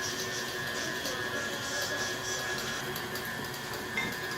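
A KitchenAid stand mixer whirs steadily as it creams cake batter for a blueberry pound cake, a continuous, fairly quiet motor hum with faint rhythmic churning and no voices.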